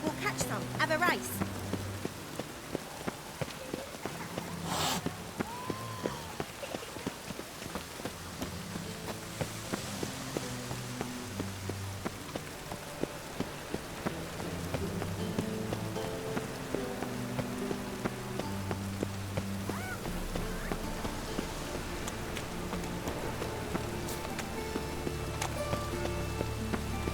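Rain patters steadily in the video game The Witcher 3: Wild Hunt, a soft, continuous hiss under running footsteps, game music and a voice speaking at times.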